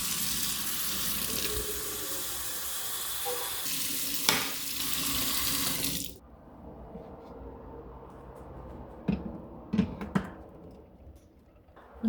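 Tap water runs steadily into the removable top reservoir of a coffee maker, filled through the opening at the top for 12 ounces of coffee. The pour is steady and fairly loud, then stops abruptly halfway through, leaving faint handling clicks and quiet room sounds.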